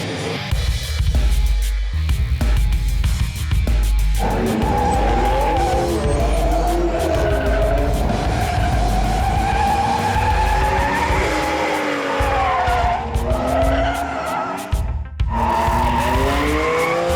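Cars skid sideways with long, wavering tire squeals over a roaring engine, loud and close for the whole stretch, with occasional brief voices.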